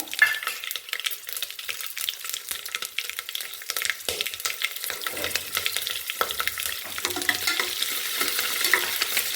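Chopped chillies sizzle and crackle steadily in hot oil with mustard seeds and cumin. A utensil stirs them in scraping strokes, and the frying grows louder and busier toward the end, with no voices.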